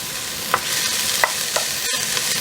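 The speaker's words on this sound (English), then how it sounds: "I want to just stir that just for about a minute, just to bring the flavor out of the garlic." Minced garlic sizzles steadily in a hot pan for a homemade spaghetti sauce, while a utensil scrapes through it in about four separate strokes, close and loud, with no voices.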